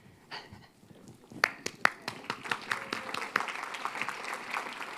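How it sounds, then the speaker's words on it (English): A small crowd at an awards ceremony claps, scattered at first then building into steady applause, close by with individual hand claps clearly distinct. "Another round of applause."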